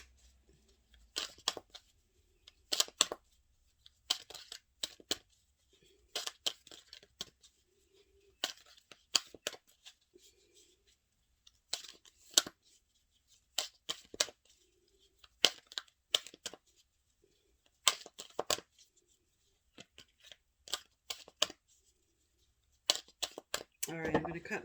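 Tarot cards being cut and pulled from a deck: scattered crisp card snaps, slides and shuffles in short clusters, close and fairly quiet against near silence.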